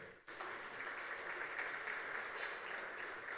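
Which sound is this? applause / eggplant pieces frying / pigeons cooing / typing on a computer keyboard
applause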